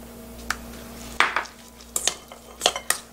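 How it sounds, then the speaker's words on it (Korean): Seasoned cockles tossed with sesame oil in a bowl: sparse wet scraping and clinks of utensil against dish, a few isolated knocks spaced irregularly, fairly close and quiet, no voices. "이걸 넣고 비비면은"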